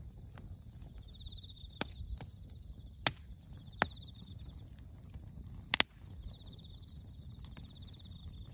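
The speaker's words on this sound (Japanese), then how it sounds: "そう、スズムシも鳴いてる。" Bell crickets chirp in repeated bursts beside an outdoor campfire where sweet potatoes are roasting, with sharp wood cracks and pops cutting through a low steady crackle and rumble.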